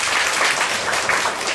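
Audience clapping in a dense, loud burst of applause, continuous and close, with no talk over it.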